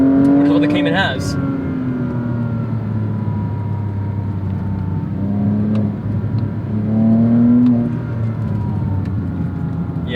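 Porsche Cayman S 987 with the Mezger flat-six revving on the road, engine note rising and falling in pitch through a few climbs, heard from inside the cabin at strong volume.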